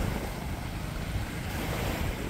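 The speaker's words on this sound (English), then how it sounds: "Feels good to be back at the beach here." Waves wash onto a beach at Panglao, Bohol in a steady, full rush of surf mixed with wind buffeting the microphone, with no voices.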